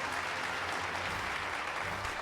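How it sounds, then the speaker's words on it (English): Canned applause from the Super Robot Wars 30 video game, a dense, steady wash of clapping that fills the short moment at moderate volume, with no talk over it. "I love the applause, the canned applause"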